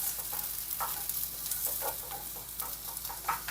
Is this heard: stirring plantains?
yes